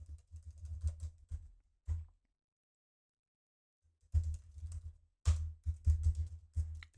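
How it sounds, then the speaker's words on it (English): Bursts of close keyboard typing, a flurry of clicks and taps, then a long silent gap before another run of quick keystrokes. "let's type the keyboard"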